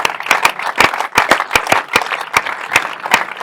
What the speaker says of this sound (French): Max qui applaudit